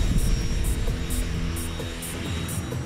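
A jet engine roars steadily with broad, dense rumble and hiss, a continuous loud wash of noise with faint rhythmic high pulses throughout.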